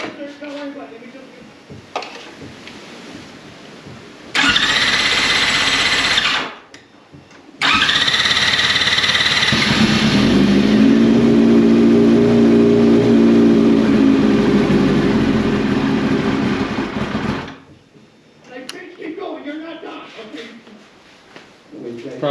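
A 2004 Yamaha R6 motorcycle that had flipped over during a wheelie cranks on starter fluid, catches and revs loudly with a sustained, rising roar, then cuts out, with people talking before and after.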